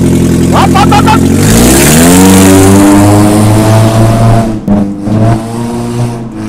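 A car engine roars loudly and revs up, its pitch climbing and then holding a strong steady drone before a few brief stutters near the end, heard up close with no talk.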